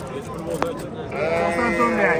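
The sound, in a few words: sheep bleating at livestock market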